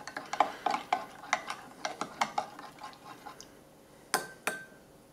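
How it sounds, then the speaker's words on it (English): A spoon stirs a lemon-lime MRE drink mix from a New Zealand military ration pack, giving a run of quick, close clinks and scrapes in an uneven rhythm, with two sharper knocks near the end. "Give that a stir up."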